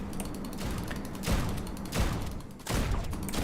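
Rapid gunfire in an indie video game, sounding as dense bursts of shots that swell in waves, loud and close, with no talking.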